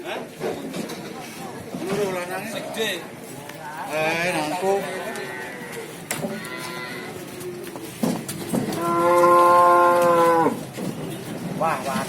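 Cattle at a livestock market in Tuban, East Java, low repeated moos from a large bull, the loudest drawn-out one near the end, with someone talking over market chatter throughout.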